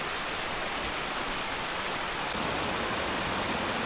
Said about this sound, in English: If you look up ahead, you will see the cave the water is coming out of.